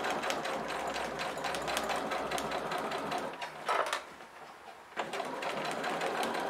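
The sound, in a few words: sewing machine stitching a fabric pouch seam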